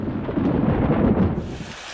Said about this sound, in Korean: 그토록 바라고 바라던 비가 내리기 시작한 것입니다.